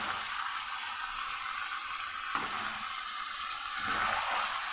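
Spice paste hits a hot pan of frying chicken, a continuous sizzling hiss that swells briefly as the paste goes in and then settles into a steady, close crackle with no voices.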